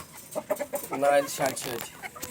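A very small chicken clucks several times in short, close bursts, with a faint voice talking quietly in the background.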